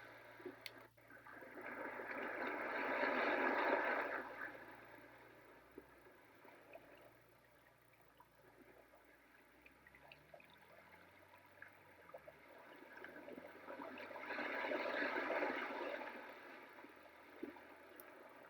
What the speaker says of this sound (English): This one's beach waves.